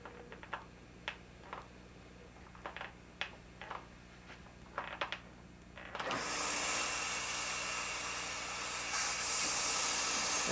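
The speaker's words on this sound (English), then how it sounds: "We're going to now turn on the vacuum pump, and we'll show you how the pressure is reduced in the chamber." A vacuum pump switches on in a chamber demonstration, starting with a sudden steady broadband hiss and roar that holds loud and constant, after a few soft ticks and clicks.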